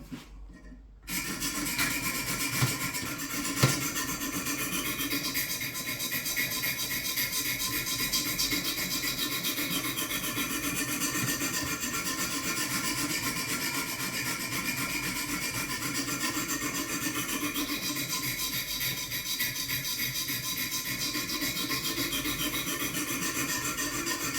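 Knife edge being sharpened on Wicked Edge 400 grit stones, a steady close rasping rub of stone on steel that runs continuously with even strokes and no talk.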